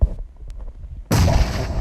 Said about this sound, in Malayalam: നൈസ് ഗ്രനേഡ് ആയിരുന്നു അവിടെ